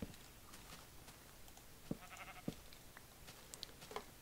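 Sheep in the Minecraft video game bleat faintly a few times in short, separate calls over a quiet background.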